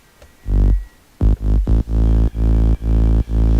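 Harsh, bright synth chords from an FL Studio big room production with no EQ cutting the highs, a short hit followed by a run of punchy stabs in a steady rhythm, loud and alone.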